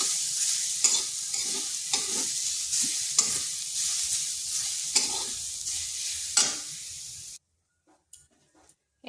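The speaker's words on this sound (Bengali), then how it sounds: "একটু হালকা ভেজে নিচ্ছি, যাতে নারকেলের যে একটা কাঁচা গন্ধ থাকে সেটা চলে যাবে।" Coconut powder being lightly fried and stirred in a pan: a steady close sizzle with repeated scraping stirs for about seven seconds, then the sound stops abruptly, leaving near silence with a few faint clinks.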